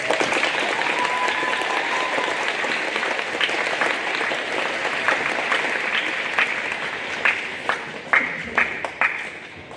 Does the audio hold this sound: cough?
no